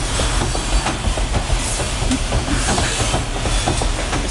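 Freight train rolling past close by, a loud steady rumble with rhythmic clickety-clack of wheels and some hiss, continuous and unbroken with no talking.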